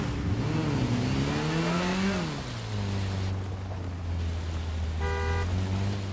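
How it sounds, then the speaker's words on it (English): Car horn blaring in the Gotham Knights video game, a sustained low tone with steady harmonics lasting several seconds, heard over game ambience, with a short higher honk near the end. "Better watch who you honk the horn at."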